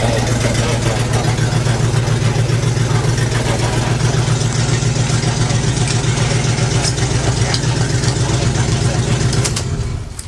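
The engine of a 1975 International truck idles in a loud, steady, pulsing rumble that continues evenly for the whole stretch and cuts off abruptly at the end.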